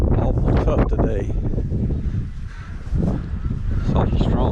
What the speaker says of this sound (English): There your geese are.